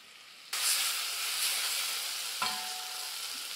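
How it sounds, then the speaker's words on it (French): Pears caramelizing in a saucepan for a pear charlotte, a steady sizzle with soft stirring scrapes and a sudden burst of frying as something hits the hot pan, close and continuous. "on va laisser caraméliser un petit peu. Donc bien remuer de temps en temps, pas que ça brûle."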